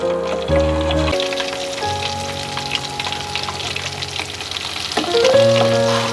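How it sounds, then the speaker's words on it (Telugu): Mutton pakodi fry in hot oil with a dense, steady crackle and sizzle like heavy rain on a surface, accompanied by soft background music tones. "చూడండి ఇలా బాగా వేగుతున్నాయి"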